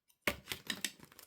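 Scissors cut paper for an envelope journal, a quick run of crisp close snips in a faint, quiet setting.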